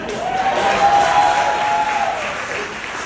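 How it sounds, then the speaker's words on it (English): Applause from wedding guests honoring the mothers during a best man speech, a steady wash of clapping from a crowd that holds at full volume throughout without letting up. "I'm actually going to ask for another round of applause for our moms."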